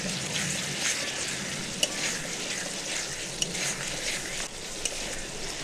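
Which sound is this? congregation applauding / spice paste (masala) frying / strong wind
spice paste (masala) frying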